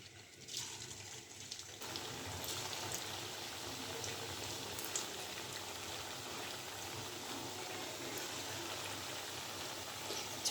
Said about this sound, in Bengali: এবার পিঠাগুলো আমি ভেজে নেব।